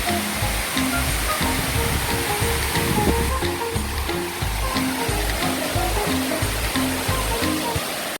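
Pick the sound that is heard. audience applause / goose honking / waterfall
waterfall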